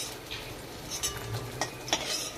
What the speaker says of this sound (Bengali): এইভাবে আমি পনিরগুলো ভেজে নিচ্ছি